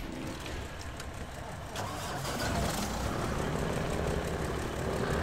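Kenworth truck engine in the video game SnowRunner, a deep steady rumble that revs up and grows louder midway, then holds a sustained drone.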